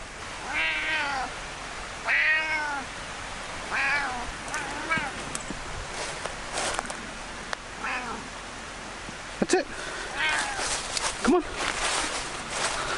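Several drawn-out cat meows rise and fall at intervals, close and clear, with soft rustling and a few clicks between them.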